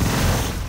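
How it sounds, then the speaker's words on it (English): Omega Cannon fire in the Descent 2 video game, a short dense burst of rapid crackling energy blasts with low rumble, loud and close. "It's better to use the Omega Cannon on them."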